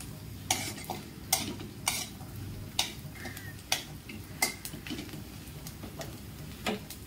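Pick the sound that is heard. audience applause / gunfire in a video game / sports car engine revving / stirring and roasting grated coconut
stirring and roasting grated coconut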